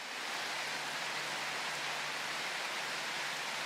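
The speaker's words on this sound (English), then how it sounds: "The rain doesn't look too bad. It sounds okay." Steady rainfall in Prologue: Go Wayback!, a dense, even hiss of drops on the ground that holds constant and fairly close throughout, with no voices or other sounds.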